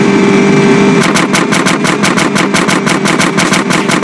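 Rapid, loud automatic gunfire in GTA San Andreas, shooting out a sewer gate, fires in a steady rhythmic burst of evenly spaced shots over a constant engine rumble after a brief engine-only opening.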